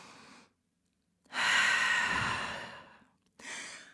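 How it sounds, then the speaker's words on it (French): A deep breath during a downward dog yoga pose: a soft inhale, then a long, loud, airy exhale lasting over a second, followed by another breath beginning, close and alone. "Grande respiration en chien tête en bas."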